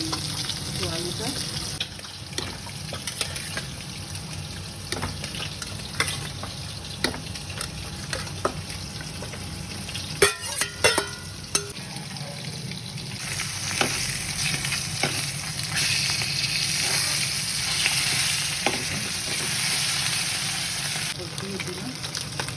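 Potatoes sizzle and fry in a pan with Bengali-style mutton kosha, a steady crackling hiss with occasional stirring scrapes, fairly close and continuous.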